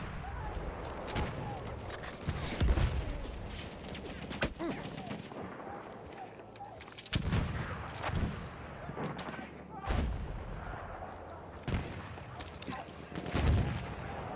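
Video game gunfire with machine gun bursts and scattered shots, repeated thumping volleys spread across the whole stretch at moderate loudness, mixed with game sounds and a voice speaking in German.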